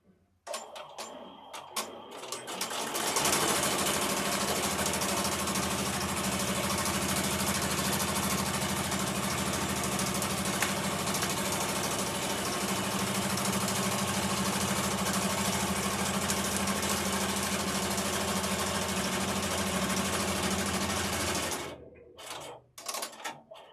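An embroidery machine stitches a unicorn zipper bag in the hoop, a fast steady mechanical chatter with an underlying motor hum that runs unbroken for most of the stretch before stopping near the end, with no talking.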